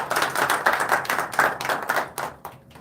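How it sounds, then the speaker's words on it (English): Audience at a Guru Nanak Dev Ji Gurpurab celebration in NSW Parliament, Sydney, gives a round of applause; light, uneven clapping from a small group with distinct individual claps, thinning toward the end. "Can we please get another round of applause for him?"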